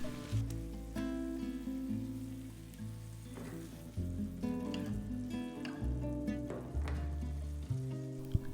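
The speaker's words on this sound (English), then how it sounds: "Now add fried bhindi and gently mix it with the masala." Fried okra is gently stirred into a sizzling spicy masala in a pan, a steady crackling fry throughout with soft scrapes and stirring clicks, close by and fairly quiet, with no speech.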